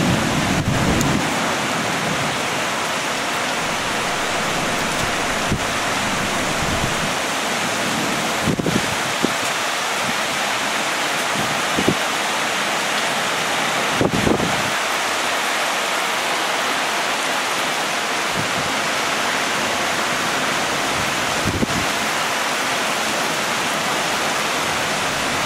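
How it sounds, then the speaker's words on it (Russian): Strong wind and rain roar steadily during a thunderstorm with hail in Odessa, a broad continuous wash of noise with occasional louder gusts and patters, no voices. "Довольно сильный ветер."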